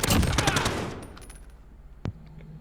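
A light machine gun firing in Call of Duty Warzone: a loud, rapid burst of automatic fire that tails off within a second, followed after a short pause by one more sharp shot.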